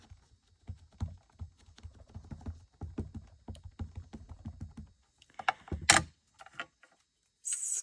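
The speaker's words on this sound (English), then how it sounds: "what I'm going to do is just ink this up with the Versamark" A rubber stamp tapped repeatedly onto a Versamark ink pad, a quick series of soft dull pats close by, followed by a few louder clacks and rustles of handling on a craft table.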